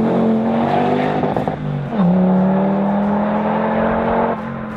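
A Donkervoort D8 GTO sports car's engine roars loudly and close, holding a steady high drone, dipping briefly as it shifts, then climbing again before easing off near the end.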